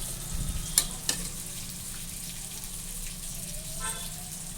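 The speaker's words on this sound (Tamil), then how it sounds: "இப்போ நம்ம தயிர் ஊற்றிக்கலாம்." Yogurt goes into a hot pan of spiced food and sizzles steadily, with a couple of sharp clinks early on and a soft continuous frying hiss throughout, close by.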